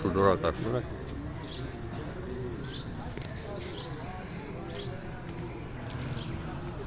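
At a racing-pigeon flight in Chenab Nagar's Muslim Colony, a pigeon comes in to land and gives soft, faint coos beneath steady nearby commentary, with a brief louder burst of activity at the start.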